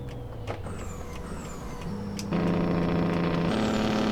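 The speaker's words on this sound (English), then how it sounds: "Real nice sounding Jake brake there." A Ford 9000 truck's engine brake in American Truck Simulator, a loud, continuous droning rumble that deepens and steps up in pitch as the truck slows, heard alone without talk.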